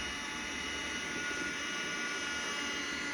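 A Henry vacuum cleaner hoovers up small specks from a surface, its steady motor drone and airflow rush holding at a constant, loud level throughout.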